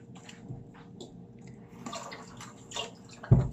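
A bunch of celery is rinsed under running water before juicing, giving a soft, uneven splashing and trickling that ends with one louder thump.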